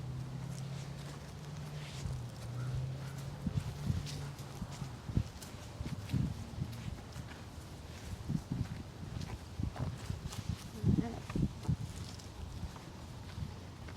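Horses' hooves clopping and shuffling on a farm while a farrier tends them, with irregular thuds near and moderately loud, a low hum at the start and a few faint voices in the background.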